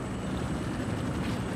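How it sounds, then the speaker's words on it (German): Helicopter in the video game Far Cry 6 passing overhead, a steady droning rotor and engine rumble that stays loud and constant throughout with no talk. "Über mir ist ein Heli."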